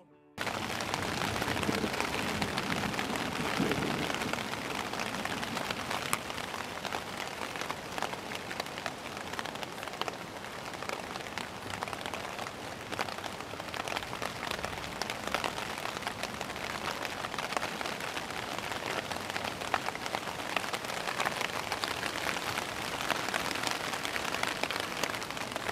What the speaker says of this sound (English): I got buckets of rain on Agnes